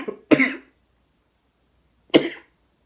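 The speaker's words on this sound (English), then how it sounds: "I had that miniature coughing fit." Two or three sharp, close coughs in quick succession, followed by a pause and one more cough.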